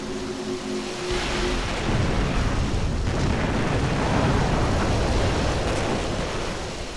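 Naval gunfire from warships in the video game Distant Guns, during the Battle of Jutland: after a brief tonal hum, a loud, continuous rumbling roar of heavy guns and explosions sets in and persists.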